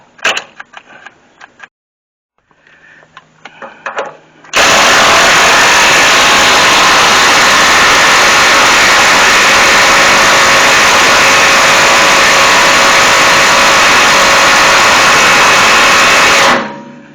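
A power tool runs the pitman arm nut back onto a Crown Vic steering linkage, starting after a few seconds of clanking and handling noises and then giving one long, very loud, steady whirring burst of about twelve seconds.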